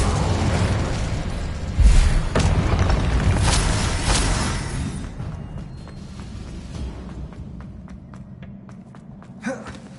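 A whooshing burst of flame from the Incendio fire spell in Hogwarts Legacy, a loud roaring blast with a thump that crackles and fades over several seconds, followed by faint clicks and a small pop.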